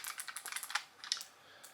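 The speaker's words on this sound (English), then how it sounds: "we all love clicky keyboards. So this is a wireless one." Clicky keys on a wireless keyboard are pressed in a quick run of sharp, close taps, then pause before a few more scattered presses, with no one talking.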